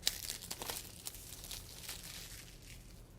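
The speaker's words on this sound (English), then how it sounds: "so this is wrapped in a plastic here, so I got the old trusty scissors out to open this up" Plastic wrapping on a spiritual card deck being cut and torn open with scissors, close, faint crinkling and crackling bursts with a sharp snip at the start.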